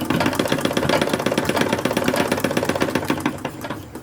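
A sewing machine stitches a sleeve along basted piping on an 1870s-style wrapper dress, a steady rapid mechanical clatter with an even rhythm, close and moderately loud throughout.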